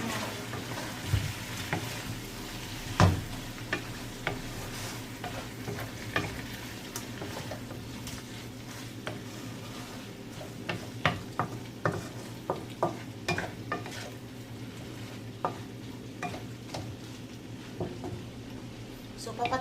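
Sautéed shrimp are stir-fried in a pan, a soft continuous sizzle broken by frequent scraping and clattering strokes of a utensil, with occasional louder knocks against the pan.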